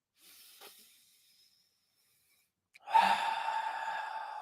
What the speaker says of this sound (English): practice profound breathing